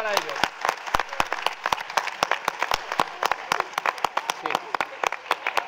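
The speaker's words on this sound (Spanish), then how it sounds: "Fuerte aplauso para ellos." Audience applause at a ceremony where students take the toga, a steady run of sharp, dense claps from a nearby crowd with no voice over it.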